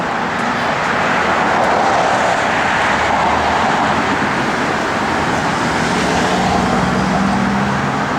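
A 1970 Plymouth Road Runner with manual transmission and a Mopar radiator with shroud runs steadily, its engine giving a loud, continuous broadband roar with a low rumbling undertone and no talking over it.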